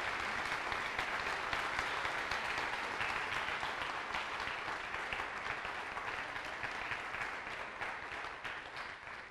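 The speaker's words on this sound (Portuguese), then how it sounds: "o Ministério Deus Forte quer dar a você uma forte salva de palmas" A church congregation claps in a sustained, dense round of applause that lasts throughout, fairly distant and even, fading slightly toward the end.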